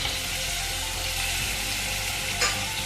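Mutton pieces with turmeric and salt sautéing in a pan, a loud dense sizzle running throughout with light stirring and one brief clatter near the end, no talk.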